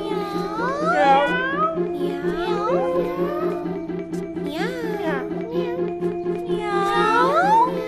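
Cats shut inside something meow repeatedly in rising and falling wails, several overlapping calls. The calls may be voices imitating the meowing, over a steady background hum.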